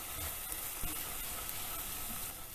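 A teaspoon of pav bhaji masala and turmeric fry in oil for masala oats, giving a soft, steady sizzle with faint crackles and an occasional stir, all quiet and continuous with no voices.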